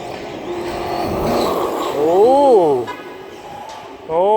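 A fast RC car with a 2700kv motor zooms by under a loud, high motor whine that rises and falls in sweeping pitch arcs as it accelerates and passes, then surges again near the end.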